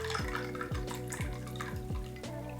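Liquid coffee pouring into a glass already holding milk, vanilla syrup and ice for an iced latte, a soft continuous trickle with repeated gurgling glugs and faint clinks, close and quiet.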